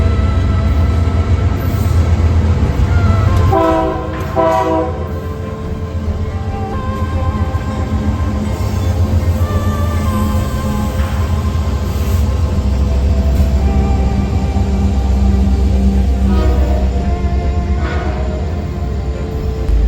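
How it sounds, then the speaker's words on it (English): A late Union Pacific freight train with a trailing SD70M locomotive rolls past on BNSF track, a loud steady rumble and rail roar that holds throughout, with an engine tone and passing-car clatter. "I would be treated to a pair of trains on the BNSF, the first being a hellaciously late UP MFWWT with an SD70M trailing."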